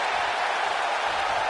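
A WWE 2K19 arena crowd cheers in a steady, dense roar, a broad wash of noise with no distinct voices or breaks over its short length.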